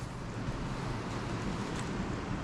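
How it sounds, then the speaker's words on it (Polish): Steady, broadband wind rush with low rumble as the wind picks up before a storm, constant and fairly loud throughout, no voices. "słyszycie jak się zrywa? Wiatr, zaraz będzie jakaś burza prawdopodobnie"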